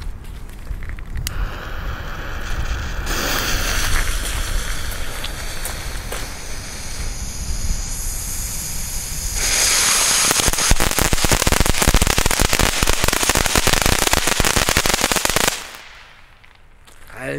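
Leslie Fire Dice youth fireworks, rated for ages twelve and up, fire loudly up close with a sustained hissing roar that turns into dense, rapid crackling for several seconds before cutting off abruptly.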